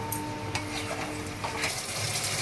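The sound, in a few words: spice paste frying in oil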